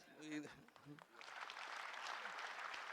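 Audience applause for tennis player Leander Paes at a Bengaluru Open felicitation, rising after a brief spoken line and then holding as a steady, fairly quiet patter of clapping.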